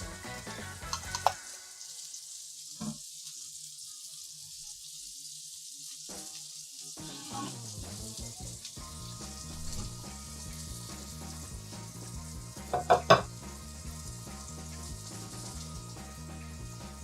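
Hamburger patties sizzle steadily in a pan with the flame turned off, a continuous close frying hiss with occasional brief pops and a few soft scrapes, no voices.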